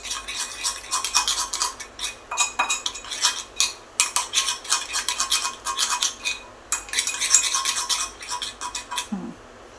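A spoon is worked briskly through soybean chunks and soy sauce in a bowl, giving rapid, loud clinking and scraping strokes in an uneven rhythm with brief pauses.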